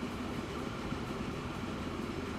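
A long freight train rolls along slowly at about 50 km/h in Transport Fever 2, giving a steady, dense low rumble that holds even and unbroken throughout.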